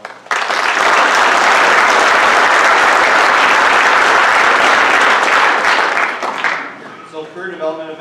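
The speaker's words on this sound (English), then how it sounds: "can we give them a round of applause?" A banquet hall audience at an FFA banquet bursts into loud, dense applause, many hands clapping steadily for about six seconds before it fades out and a voice begins speaking.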